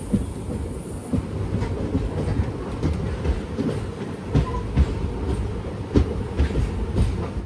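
Chennai Egmore Express running on the rails between Kollam and Madurai, a steady, close rolling rumble with repeated clattering wheel knocks over the whole stretch.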